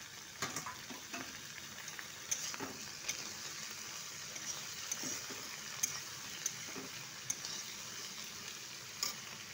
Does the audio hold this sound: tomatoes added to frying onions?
yes